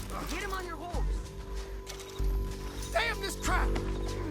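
Horse hooves clip-clopping in the Red Dead Redemption 2 video game, uneven thuds in short bursts beneath game music, a whinny and people talking.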